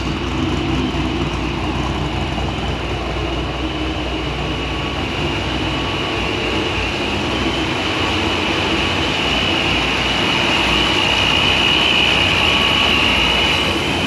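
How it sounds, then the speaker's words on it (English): Pontiac GTO engine idling smoothly and steadily, a continuous broadband rumble and hiss held close and unchanging for the full stretch, with no surging and no voices. "Listen to it idle. This car's never idle like this."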